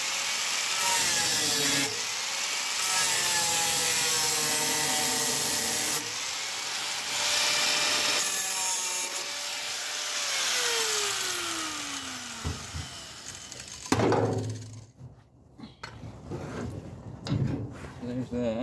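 Power cutting into a rusted steel fuel tank from a 1948 Packard Super 8, a long continuous grinding, sawing rasp with a pitch sweep near the end, then clanks and scraping handling noises.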